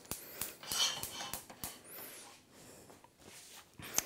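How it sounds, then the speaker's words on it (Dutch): A frying pan is taken out for cooking shrimp, giving a string of faint, sharp metallic clinks and knocks, with cutlery-like rattles and a light scrape, close and quiet. "ik pak er een koekenpan bij, waar ik de garnalen in ga bakken"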